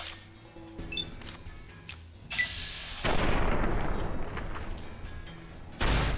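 Dynamite explosions in the video game Fallout: New Vegas: a sharp blast followed by a long, loud rumbling burst of noise, then another heavy explosion near the end, amid game sound effects.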